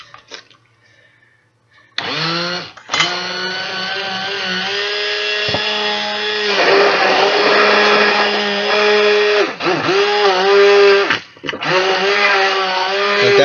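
Electric mixer whipping homemade laundry detergent, a loud close motor whine starting after two seconds of quiet, running steadily with brief dips and pitch drops as it bogs down in the thick mixture.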